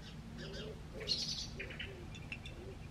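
Birds chirp faintly in the background with small scattered tweets and short calls, set against a low steady indoor hum.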